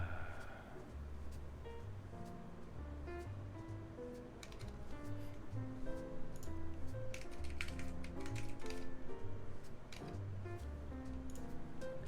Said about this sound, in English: Your spacebar sounds a little rattly. That's just Alps.